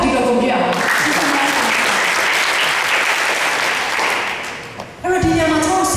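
A congregation at a Christian gathering claps hands in a long, loud, dense burst that fades toward the end, a voice speaking briefly before and again right after.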